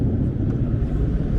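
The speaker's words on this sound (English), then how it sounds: "I'm letting the truck air up." A truck's engine idles steadily to build air brake pressure, a continuous low rumble with some wind buffeting, close and fairly loud with no other sounds.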